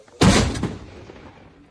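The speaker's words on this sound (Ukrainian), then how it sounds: "Постріл!" A single loud, sharp tank gun blast close by on the front line, followed by a rolling echo that fades away.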